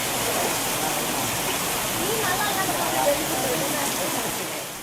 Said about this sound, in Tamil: இதனால் சாலைகளில் மழைநீர் பெருக்கெடுத்து ஓடியது.